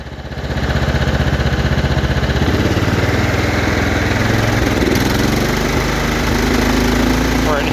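A Kohler Power Plus 17 engine runs near and loud, idling steadily before its pitch shifts as it comes back up from idle and wavers unevenly, with a voice faintly present under the engine noise.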